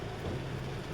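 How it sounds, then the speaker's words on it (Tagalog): Heavy downpour pelts a car parked at the roadside, a dense continuous hiss and drumming with no gaps, steady and close. "Grabe ang lakas ng ulan."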